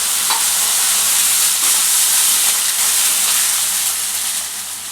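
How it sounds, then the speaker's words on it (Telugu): Water poured into a hot pan of upma sizzles and hisses with a steady, loud steam rush that holds for several seconds and eases slightly toward the end, with no voices. "ఇక ఒక గ్లాసు వాటర్ పోస్తున్నా"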